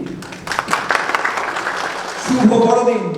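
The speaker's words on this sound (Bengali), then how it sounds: "আসুন আমরা সকলে আসন গ্রহণ করি আর ঈশ্বরের উদ্দেশ্যে আমরা জোরে একটি হাততালি দেই" A church congregation claps loudly during a Christmas service, the applause swelling toward the end, with voices and some music mixed in.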